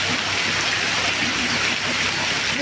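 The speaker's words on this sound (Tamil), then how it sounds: "மழை பார்த்தியா சரியான மழை" Heavy rain pours down in a steady, dense roar that fills the whole clip evenly, with no voices or other sounds standing out.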